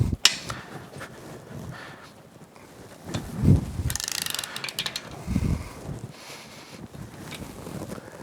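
A wrench ratchets and clicks against powerhead bolts on a Yamaha F225 outboard, with a few short clanks and creaks amid wind noise on the microphone; close, no speech.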